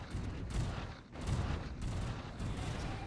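Allied rockets fire in a Stellaris space battle, a dense rapid crackling barrage that rumbles on continuously in pulsing waves, with no talk over it.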